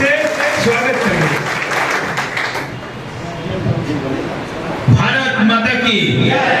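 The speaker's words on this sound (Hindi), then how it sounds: "एक बार जोरदार ताली से स्वागत करेंगे।" A crowd applauds to welcome a speaker at a BJP membership drive event in Simra. The steady clapping fills the room and swells again near the end, with a voice talking over it.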